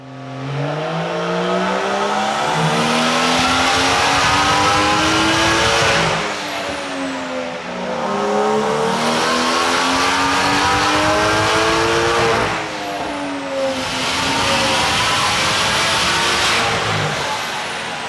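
A 730 HP BMW M3 with a DOC Race single turbo kit, running on flex fuel, accelerates hard through repeated rising engine pulls with brief dips between gear changes, loud and close, with no talking.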